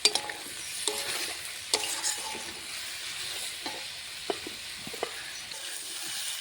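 Spices being stir-fried together with potato, cauliflower and broad beans in a pan: steady sizzling with repeated scraping spoon strokes, close and moderately loud, no talking.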